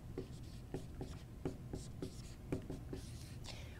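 Close, quiet strokes of a pen or pencil writing an equation by hand, a series of irregular short scratches and taps in a hushed room.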